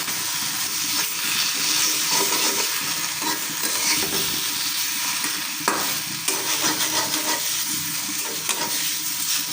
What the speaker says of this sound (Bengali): তেলের মধ্যে একটু ভেজে নিতেছি।